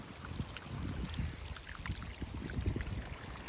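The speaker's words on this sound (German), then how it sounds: "So schön, dass Leas Bach wieder am Laufen ist" Water runs in a small restored garden stream, a steady broadband rush and trickle that is close and continuous, with no voices.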